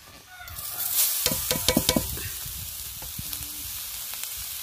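Grated coconut and sugar filling is stirred in a pan, with a quick run of close scraping strokes against the metal over a low steady sizzle.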